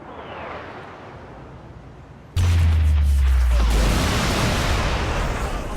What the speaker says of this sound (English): we could call it an airstrike